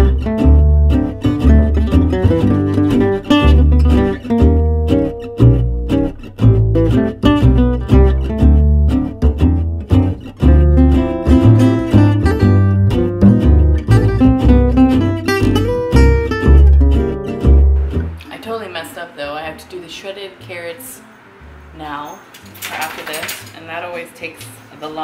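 Dry cake ingredients being stirred together in a mixing bowl, with light clinks of utensil against bowl, mostly beneath steady background music that later gives way to a quieter stretch.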